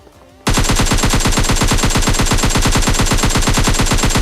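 Automatic gunfire in the PUBG Lite mobile game: after a brief quiet start, a long, loud, rapid burst of machine-gun shots rattles on evenly to the end.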